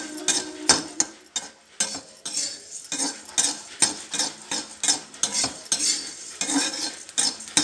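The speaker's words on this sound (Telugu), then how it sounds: "ధనియాలు జోరుగా వేగాలి." Coriander seeds being fried in a pan for bisi bele bath, with rhythmic metal spoon scrapes and clinks against the pan over a light sizzle, close and repeated every half second or so.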